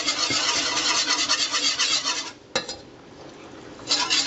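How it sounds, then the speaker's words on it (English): A whisk scrapes steadily around a pan as flour goes into melting butter for a macaroni and cheese roux, a close, continuous metallic rasping that pauses briefly before resuming. "Once your butter starts melting, you want to just start whisking in the flour a little bit at a time until it thickens."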